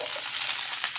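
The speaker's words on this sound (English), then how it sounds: "love the sizzling sound" Sliced bell peppers and red onion sizzling in a hot pan, a steady, close, bright crackling hiss with small pops throughout a brief moment.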